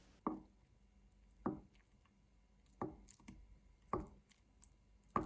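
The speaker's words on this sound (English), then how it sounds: "First, slice the tofu, then cut it into strips, and finally cut it into small cubes." A knife chops through tofu on a cutting board, cutting it into strips and small cubes, giving five evenly spaced, soft, close thuds about a second apart against a quiet background.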